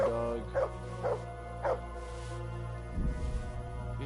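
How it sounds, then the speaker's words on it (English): A dog barks repeatedly in Kingdom Come: Deliverance, four sharp evenly spaced barks over a steady droning game background, followed by a rumbling shift in the ambience. "Dog, stop fucking barking."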